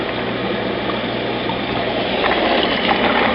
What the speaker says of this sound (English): Go ahead and fill it up, fill it up